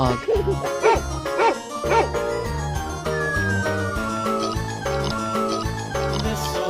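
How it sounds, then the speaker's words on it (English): A small dog barks and yips several times in quick bursts over a bouncy melody, sounding like a playful recorded bark. "Dog."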